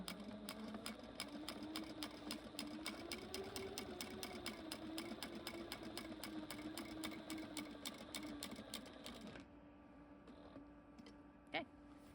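An upholstery sewing machine stitches a seam on an RV-10 back seat cushion cover, a rapid steady run of needle clicks for about nine seconds, then stopping, followed by quieter handling noise and one sharp clack.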